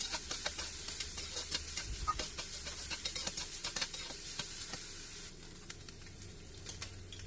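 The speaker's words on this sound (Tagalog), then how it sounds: "Igisa natin yung ating minced pork." Minced pork sautéing in a pan, a quiet steady sizzle with scattered crackles and pops, occasional stirring scrapes and no voices.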